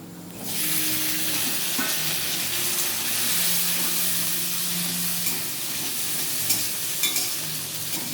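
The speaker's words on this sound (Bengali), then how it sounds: "ডিম ভাজা হয়ে গেছে পেঁয়াজও ভেজে আসছে" Eggs and onions fry in a pan with a steady, bright sizzle that runs throughout, up close, with a few faint utensil taps near the end.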